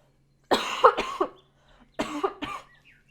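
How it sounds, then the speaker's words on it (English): Two separate bursts of coughing, the first a cluster of harsh coughs and the second a shorter pair, close to the microphone with quiet between them. "I just had a cough."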